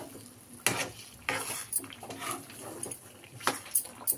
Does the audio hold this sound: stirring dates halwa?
yes